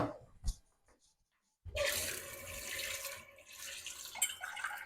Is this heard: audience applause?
no